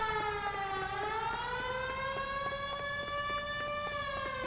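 A police car siren from the video game L.A. Noire wails steadily and loudly. Its pitch dips, then sweeps slowly upward in a continuous tone that holds throughout.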